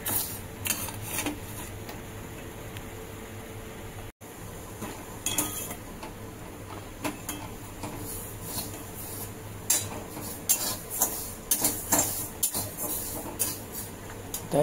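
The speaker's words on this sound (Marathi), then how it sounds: "हे अशा प्रकारे आपल्याला लालसर होईपर्यंत चांगले भाजून घ्यायचे तांदूळ" Rice dry-roasting in a pan until reddish, stirred with a spoon: close, irregular metallic clinks and scrapes over a soft steady sizzle-like hiss, with no talking.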